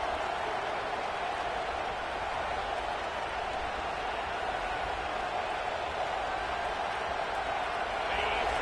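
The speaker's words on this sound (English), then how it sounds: "This crowd, full of throats, splitting the eardrums and letting them know it's going to be a long day." Packed college football stadium crowd in South Carolina roaring, a dense, loud, continuous wall of cheering throughout.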